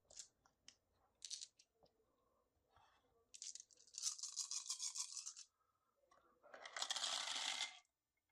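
Activation dice for a barbarian in a tabletop dungeon game clatter and rattle across a surface, first as a few quick clicks and then as two longer rolling bursts, close and fairly quiet.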